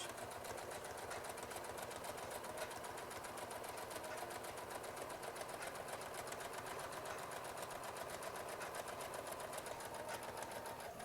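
A sewing machine stitches a fabric face mask, a close, steady rapid mechanical whir and clatter running without pause for about eleven seconds.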